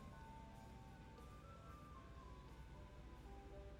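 An ice cream truck plays its tinkling melody faintly from outside, a thin distant tune drifting through a quiet room over low background hum.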